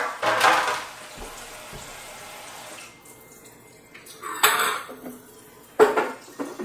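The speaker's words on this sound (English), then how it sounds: "this cookie sheet. Is going to go at the bottom, basically on the grate underneath the jars, Leo" A metal cookie sheet is handled during home canning of apricots, set onto the grate beneath the jars, giving a few short metallic clanks and scrapes separated by quiet gaps.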